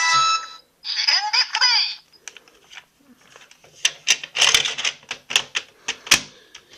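A Samurai Gattai DaiGoyo toy robot plays a short burst of warbling electronic tones, a synthesized phrase on release of a button, followed by a series of plastic clicks and rattles close by.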